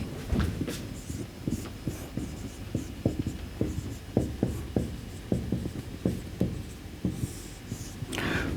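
Chalk or marker tapping and scraping across a board in a steady series of short strokes, close and fairly loud, with no talking.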